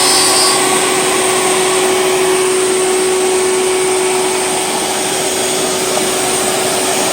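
A Shaper Origin handheld CNC router cuts out the center of a groove in a second pass, giving a loud, steady high-pitched whine with a constant motor tone and dust-extraction roar, close by and unbroken throughout.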